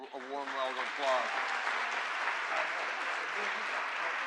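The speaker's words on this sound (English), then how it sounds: "please give this panel a warm round of applause" An audience at a community panel gathering gives the panel a round of applause, a steady, fairly faint wash of clapping that follows a few words of speech at the start.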